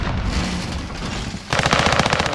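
Machine gun fire in a military shooter video game: rapid bursts of automatic fire crackle loudly, with dense sustained rattling after a brief lull, heard close and alone.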